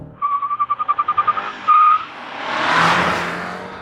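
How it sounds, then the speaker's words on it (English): A 2025 Mini Cooper JCW makes a launch control start, with a rapid train of about a dozen sharp, pulsing tire chirps, a sustained squeal, then a rising roar as the car pulls away, loud and close. "Launch control active."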